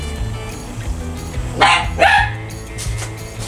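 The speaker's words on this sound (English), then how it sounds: "Sorry about that. That's my dog." A dachshund puppy gives two sharp, loud barks close by over a quiet background, with softer yips trailing after.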